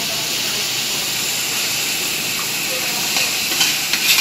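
Bell pepper goes into a hot pan with garlic for a chicken and vegetable soup, giving a loud, steady frying hiss that swells slightly near the end, with a voice speaking faintly beneath it.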